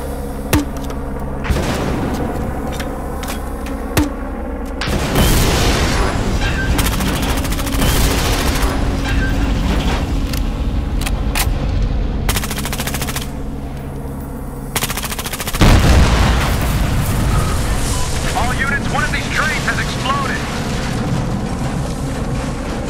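Sustained automatic gunfire in Battlefield Hardline pounds an explosive tanker until it blows, with two heavy booming blasts breaking through the steady, loud shooting.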